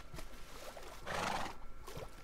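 A horse in the video game Minecraft gives a short, fairly quiet neigh, a single whinny swelling briefly in the middle over soft background game sound.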